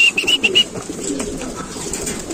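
Racing pigeons coo in a short rhythmic series of soft throaty notes close by, followed by rustling background noise with no talking.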